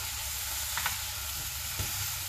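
Oxtail browning in its own rendered fat with no added oil, a steady close sizzle with a couple of brief stirring scrapes, no voices.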